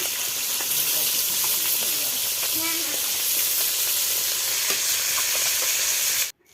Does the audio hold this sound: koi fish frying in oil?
yes